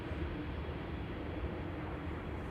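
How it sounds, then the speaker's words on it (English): A jet airliner departing from runway 18R Polderbaan at Amsterdam Schiphol Airport, heard as a steady, broadband low roar that holds at an even level throughout, with no voices. "meantime I hear another airplane depart"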